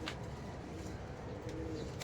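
A pigeon from a racing loft, a young bird wearing a club band, coos softly and repeatedly in the background of a quiet loft, with a low steady murmur of other birds around it.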